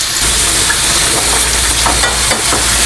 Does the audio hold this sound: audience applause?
no